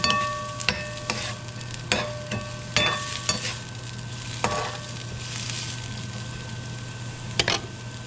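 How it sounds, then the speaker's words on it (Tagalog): Ingredients sauté in a pan with a steady sizzle, broken by sharp, irregular scrapes and clacks of a spatula stirring, close and without talk. "Ito ay aking igigisa at ihalo mamaya."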